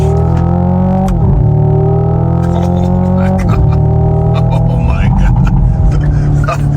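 A Hyundai car in sport mode accelerates hard, its engine roaring loudly and climbing through rising revs with gear shifts, while people talk over it from inside the car.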